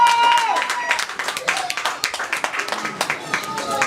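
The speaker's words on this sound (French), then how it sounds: "Applaudissez pour Anka qui agit" An audience at a charity anniversary event breaks into a brief burst of clapping, with crisp, fairly close hand claps that continue while a voice speaks over them.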